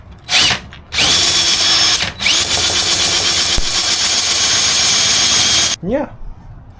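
A power tool whines in loud bursts while sanding a homemade skateboard wheel well tool, starting and stopping several times up close before winding down at the end.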